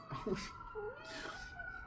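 A house cat meows in two or three drawn-out, wavering calls close by, with a brief caterwaul-like rise, in a quiet indoor room where a person speaks softly around the cries.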